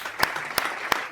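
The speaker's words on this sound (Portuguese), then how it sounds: "Palmas aí" Three slow, sharp handclaps ring out at even intervals, close and distinct, from a single person rather than a crowd.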